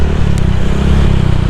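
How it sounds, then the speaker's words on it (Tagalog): A Honda Click 125 scooter fitted with an aftermarket muffler runs up close, giving a loud, steady throbbing engine drone with a brief rattle and no talking. "iba na yung kanyang muffler, malakas na yung tunog"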